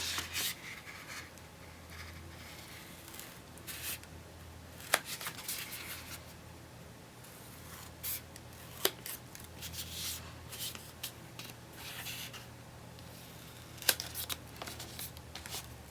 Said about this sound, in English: you just cut it out